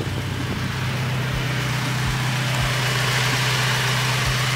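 Engine of a 500 hp Subaru BRZ / Toyota FRS fitted with a DIY oil cooler kit, idling with a steady low hum and faint regular ticks, close by and without talk.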